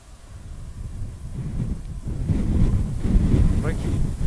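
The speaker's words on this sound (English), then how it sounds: "See how windy it is." Strong wind buffets the microphone outdoors near standing stones, a steady low rumble that builds and roars louder over the few seconds, with no talk.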